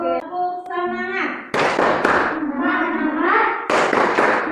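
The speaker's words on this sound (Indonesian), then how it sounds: "tepuk semangat" A class of schoolchildren performs a rhythmic spirit clap, loud close claps in patterned bursts mixed with the children's chanting voices.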